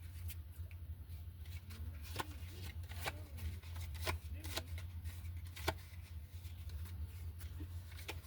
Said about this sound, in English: Let me go ahead and count the cards up very quickly.